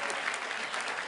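Graduation audience at a law school ceremony breaking into steady, dense applause with some cheering, filling the hall evenly throughout.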